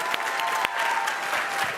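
A startup founders' event audience in London breaks into brief, dense applause, a steady patter of many hands with a few sharper individual claps standing out.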